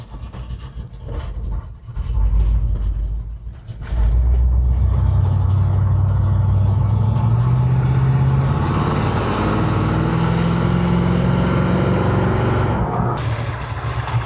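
A Chevy car with a TH350 or TH400 automatic transmission drives around: a low engine idle, a brief dip, then a loud steady engine roar whose pitch climbs through the gears, heard up close.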